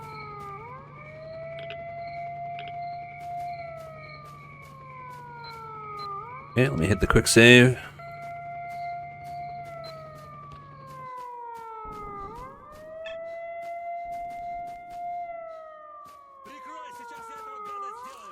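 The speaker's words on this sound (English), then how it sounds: "I remember vividly that looping siren just being very, very annoying." In the video game S.T.A.L.K.E.R. Shadow of Chernobyl, an alarm siren loops steadily, rising and falling in long repeated sweeps. Someone talks briefly over it, and a burst of gunfire or impact noise breaks in partway through.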